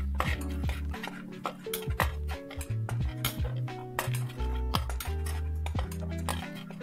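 Chickpeas with turmeric are tossed in a pan for dry chana masala, a steady run of metallic scraping and clinking from a spoon against the pan, close and busy with repeated sharp taps throughout.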